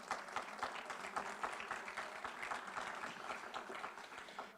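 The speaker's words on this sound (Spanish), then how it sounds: "Si usted va a aplaudir, aplauda al Señor." A church congregation at a pastor's sermon breaks into applause, a fairly distant, continuous patter of many hands clapping that holds steady throughout without voices.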